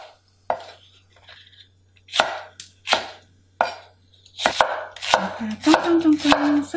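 Daepa green onions are chopped with a knife on a board for beef yukgaejang: sharp, close strikes spaced apart at first, then quickening into a faster run of chops.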